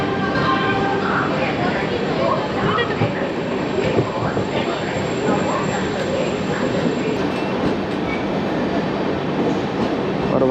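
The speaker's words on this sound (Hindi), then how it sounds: "हमारी ट्रेन निकल चुकी है दुर्ग जंक्शन से" The Rajdhani Express pulls away from Durg Junction with a steady, rumbling roar of wheels on rails and a faint high squeal, loud and continuous throughout, with a voice talking over it.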